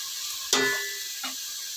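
Tomatoes and mint hitting a pan for coconut milk biryani, a sharp sizzle that fades, then a second softer sizzle, close and without talk.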